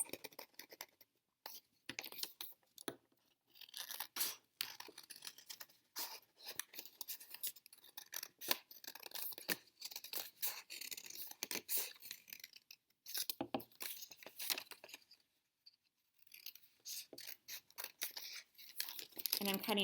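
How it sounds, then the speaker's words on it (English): Scissors snip carefully through folded paper along drawn lines, a series of short, irregular cutting and rustling sounds close up, with pauses between cuts. "I'm going to very carefully cut on each of these lines."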